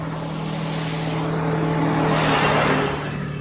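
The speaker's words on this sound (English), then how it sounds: "Pretty cool military trucks" Military trucks drive past on a road near Chernobyl in Ukraine, giving a steady, loud engine rumble and tyre roar that swells slightly as they pass. There is no talking.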